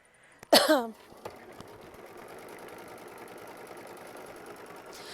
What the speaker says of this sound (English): we're going to sew machine stitch step 21 to tack it down for our flip and fold